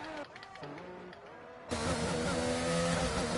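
McLaren race car engine in a sim racing game during a Spanish pre-season test session, starting as a quieter harmonic drone that shifts in pitch, then jumping abruptly to a loud, full-throttle roar that holds steady to the end.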